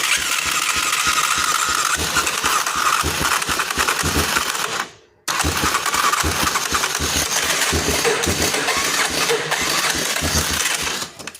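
A Wolverine 350 ATV engine that has been flooded cranks and runs in a loud, steady rapid chugging rhythm, cutting out briefly midway, then picking back up, with no talk.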